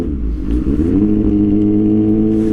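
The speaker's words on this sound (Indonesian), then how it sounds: "Kalau RPM 1500 sampai 3000 dia masih berebet minta digas, minta kenceng dia." A Kawasaki ZX6R motorcycle engine idles roughly at low RPM, a loud, close, uneven rumble that sputters and then steadies into a droning hum, with no talking.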